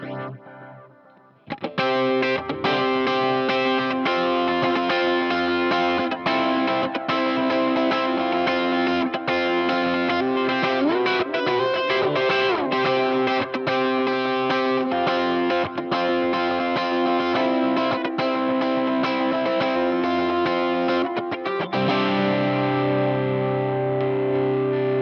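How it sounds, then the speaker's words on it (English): An electric guitar played through a dual delay pedal set to quarter-note mode with a dotted-eighth feel, with driven tone and dense repeating echoes that ring steadily and loudly for the whole passage, with no talking. "Really, it's a dual delay in quarter note mode, but it's got a dotted eighth feel to it."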